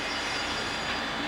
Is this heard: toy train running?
yes